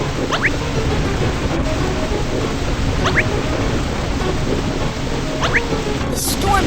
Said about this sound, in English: Watch out! The storm is getting stronger!